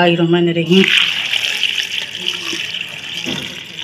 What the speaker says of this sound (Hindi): अब इसमें थोड़ा सा डालते हैं पानी